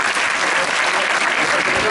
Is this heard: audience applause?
yes